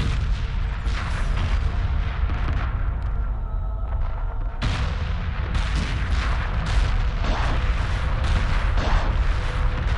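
The Titan flagship explodes in the space strategy game Homeworld Remastered, a loud, dense roar of rumbling blasts and crackling booms that swells partway through and keeps thundering to the end.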